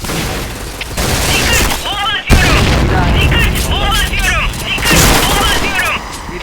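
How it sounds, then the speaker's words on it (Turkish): Grenade blast and gunfire in a multiplayer shooter clan match, with sharp broadband bursts and a loud boom near the middle, rattling shots throughout, and players talking over the action. "Bomba atıyorum."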